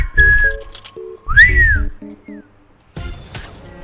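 Short whistled notes sound in a Fortnite prop hunt match, a few rising and falling tones mixed with bright game chimes and blips, with bursts of voices talking between them.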